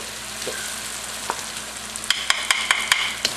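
Garlic sizzles in hot oil in a pan for chicken jalfrezi, a steady frying hiss with a spoon scraping and tapping against the pan, the strokes coming in quick succession near the end.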